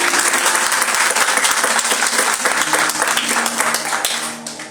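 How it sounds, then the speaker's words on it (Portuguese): A church congregation at a missions service applauds together, a loud, full burst of many hands clapping with some murmured voices, gradually thinning and fading toward the end. "Vamos aplaudir o Senhor por essas vidas?"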